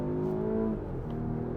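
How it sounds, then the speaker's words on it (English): A 2024 Volvo S90 Recharge plug-in hybrid sedan accelerates hard, its engine and twin electric motors producing a loud, steady, close-up drone that holds evenly throughout without any talk. "this hybrid motor really goes"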